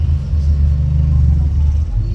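A motorized tricycle engine rumbles low and steady on a road in Laguna, Philippines, heard close up from inside traffic.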